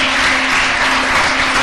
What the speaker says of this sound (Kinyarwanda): Mumuhe amashyi.